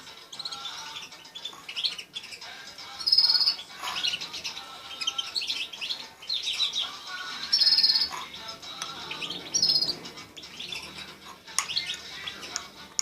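Goldfinches chirping, several bright high tweets and short trills repeating at irregular intervals over a quiet indoor background, fairly close and clear, no voices.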